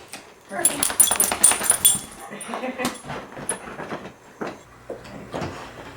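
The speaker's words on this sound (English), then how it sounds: "That's a dog." A dog whimpers and whines inside a room during an overnight paranormal investigation, with short cries and rustling heard under people talking nearby.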